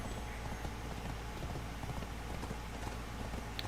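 Horse hooves clip-clopping at a gallop in the Crimson Desert video game, a quick steady drumming of hoofbeats running throughout at moderate volume over a wash of background noise.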